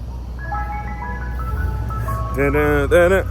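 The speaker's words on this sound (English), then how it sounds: "Mr. Softy's outside. It's ice cream truck." A Mr. Softee ice cream truck plays its tinkling melodic jingle outside, a bright tune of stepped notes, joined by louder harmonic bursts toward the end over a low engine hum, with a voice speaking.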